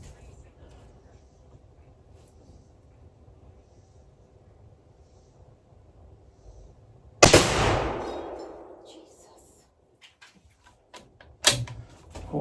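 A 6.5 Creedmoor rifle firing 147-grain rounds at a target 25 yards away on a ranch: after quiet, one loud, sharp shot with a long fading tail, then a second, shorter crack near the end.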